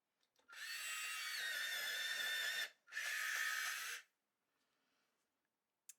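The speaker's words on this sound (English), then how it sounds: "My raw umber is like super tiny, so I'm just going to give it a quick sharpen." A raw umber coloured pencil is sharpened in two quick, close bursts of whirring grinding from an electric sharpener, separated by a short pause, followed by faint quiet handling.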